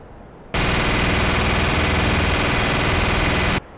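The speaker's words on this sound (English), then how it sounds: "Just keep shooting!" Sustained automatic gunfire in a video game, a dense continuous rapid burst that starts abruptly, holds loud and steady for about three seconds, then cuts off sharply.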